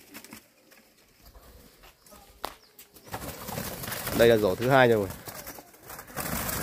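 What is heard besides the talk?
young turtle doves struggling, flapping wings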